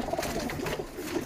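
A Pakistani breed pigeon coos softly inside a loft, giving a brief, low, rolling murmur at close range, heard alone and faint.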